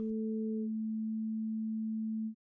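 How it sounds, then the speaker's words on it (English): A sawtooth wave filtered down to a smooth sine becomes a pure, steady low tone after a higher partial fades out, then stops cleanly. "the waveform gradually morphs from a sharp saw back into a perfectly smooth sine again"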